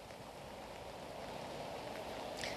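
Rain falls outside the National Assembly in Bulgaria, a faint, steady hiss of drops with no voices, holding even throughout.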